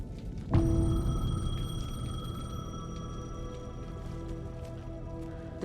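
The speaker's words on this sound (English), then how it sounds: "The payphone was ringing." A payphone rings in the video game Alan Wake 2, a sustained electronic tone that starts abruptly and continues steadily over a dark ambient hum.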